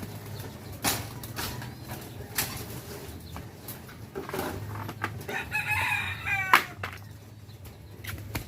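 A rooster crows once during feeding time among racing pigeons, a mid-distance call rising over a low hum, irregular knocks and rustling from the birds.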